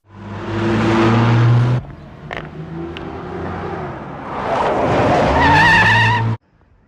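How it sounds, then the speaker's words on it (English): A car speeds off in an escape with skidding, squealing tires, two loud bursts of engine and tire noise separated by a quieter stretch, ending abruptly. "failed in their attempt to kill Mr. Sain and are making their escape via Elliot in the car."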